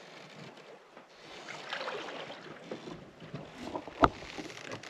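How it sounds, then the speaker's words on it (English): A 30-foot sailboat moving slowly under sail at sea, with a soft, steady rush of water and wind along the hull and a single sharp knock near the end. "And while we are not moving very fast, we are for sure sailing."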